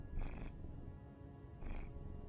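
A pet cat purs while getting head scratches, a soft continuous close rumble with two brief higher bursts of mewing or chirping, and no talk over it.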